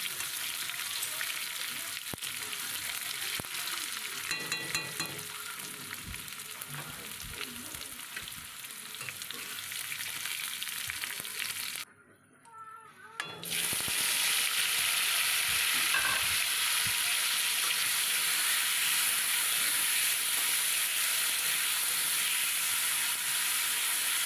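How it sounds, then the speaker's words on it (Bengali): Young jackfruit fries in a pan as turmeric is added bit by bit, a continuous sizzle and stirring that drops out briefly, then returns louder and steadier, with no talk. "এঁচোর ভাজবার সময় দেখো আমি আগে হলুদটা দিইনি এই যে ভাজবার সময় একটু একটু করে হলুদ দিয়ে দিচ্ছি এইভাবে আমি ভেজে নিই"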